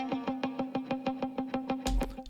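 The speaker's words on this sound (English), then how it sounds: "In the session I have a guitar that sounds like this." Processed electric guitar in a mix, strummed or picked in an even repeating rhythm of about a dozen bright, effected hits, loud and close, with a thicker burst near the end.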